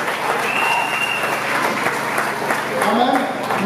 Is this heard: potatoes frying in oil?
no